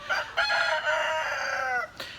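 A rooster crows loudly and close by in one long, drawn-out call, with brief clucks from chickens just before and after, outdoors in the rain.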